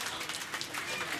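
An audience applauds at the inauguration of the Sahyadri Co-operative Society in Thokkottu, producing a dense, continuous wash of clapping that stays fairly soft and distant throughout.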